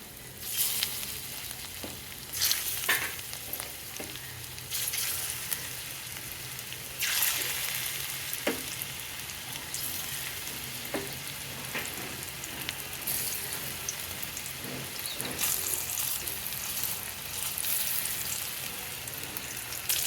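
Pumpkin pieces fry in hot oil with a steady crackling sizzle, punctuated by sharper pops and occasional stirring scrapes, heard close up.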